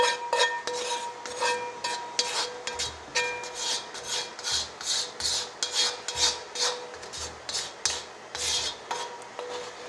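A roux for rabbit gumbo is stirred in a pot, a spoon scraping and rasping against the bottom in steady repeated strokes, close and fairly loud, with no talking.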